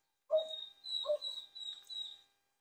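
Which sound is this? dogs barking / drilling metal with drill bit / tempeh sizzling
dogs barking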